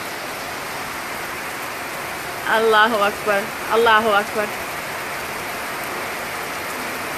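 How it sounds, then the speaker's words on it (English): Heavy rain pours steadily in Hargeysa as an even, close hiss throughout, with a man's call of Allahu Akbar briefly rising over it in the middle. "Listen to the rain."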